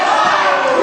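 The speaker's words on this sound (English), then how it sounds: "The crowd chanting one more time." Wrestling crowd roaring and chanting at an indoor match, a dense sustained wall of many voices, loud and continuous for a brief moment.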